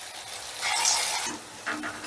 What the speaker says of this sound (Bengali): এই তেলটার মধ্যে যে কটা বড়া ধরবে আমি সে কটা একসাথে ভেজে নিচ্ছি